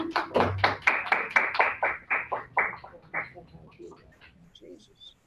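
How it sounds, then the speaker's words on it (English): A small group at a meeting gives themselves a round of applause. The claps are close and fairly sparse and rhythmic, tapering off quickly into a few scattered claps and faint chatter. "let's give ourselves a round of"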